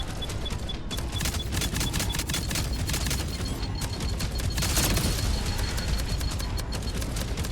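Spaceship weapons firing in the space combat game Jump Space, rapid dense bursts of shots repeating throughout with brief gaps, loud and close.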